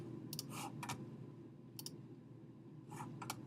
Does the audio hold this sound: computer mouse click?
yes